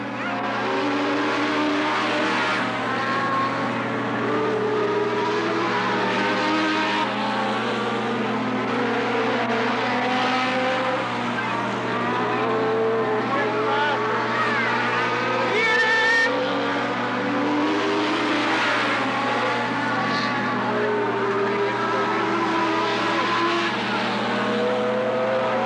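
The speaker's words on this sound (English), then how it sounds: "Both of them with the 1200cc motors." Race cars with 1200cc motors roar around Riverside Speedway (Cottage Grove Speedway) in 1991, a steady loud blend of engine drone and shifting pitch as cars circle, with crowd or track noise underneath.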